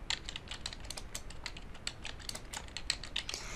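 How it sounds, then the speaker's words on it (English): Someone types a search query on a computer keyboard, a close run of uneven, light key clicks and taps with no speech. "I'm going to type in here, I'll put in Colorado actual cash value"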